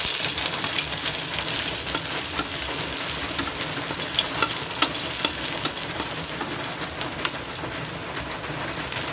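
Garlic sizzles steadily in a little hot oil in a pan, a dense, continuous frying hiss close up and fairly loud, with faint stirring scrapes and no talk.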